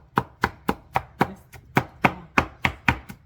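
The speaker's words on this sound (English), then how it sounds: "I'm gonna dice my tomatoes up" A knife dices tomatoes on a cutting board in a steady series of about twelve crisp, evenly spaced chops, close and alone with no talk.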